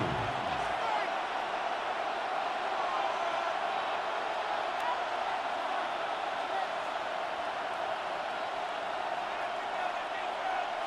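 A stadium crowd roars continuously in the Madden NFL 26 football video game, a broad, steady wash of distant cheering beneath play-by-play commentary.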